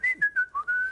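A person whistles a short melody, several clear, close notes in quick succession with small pitch glides, heard alone.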